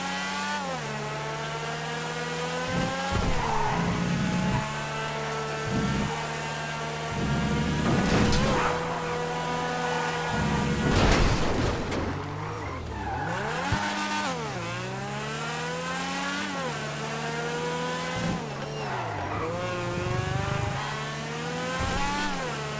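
A Porsche Taycan in a video game test drive roars through repeated acceleration and gear-change sweeps, loud and close, with brief squeals and thumps as it rises and falls in pitch.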